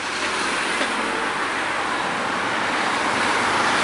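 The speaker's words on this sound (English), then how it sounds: "It's getting a bit windy, and of course you've got this traffic." Steady wind buffeting over continuous street traffic in Woolwich, a loud unbroken roar of passing vehicles with no talk heard.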